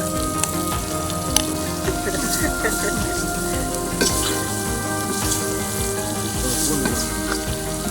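Steady, loud sizzling of chicken frying in a pan, crackling and spattering continuously with occasional clinks, outdoors in a forest.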